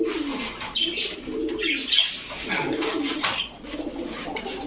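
Pigeons in a shop, Teddy, Pankhi and Saharanpuri breeds, coo softly and repeatedly over a low background murmur, with a few higher chirps mixed in.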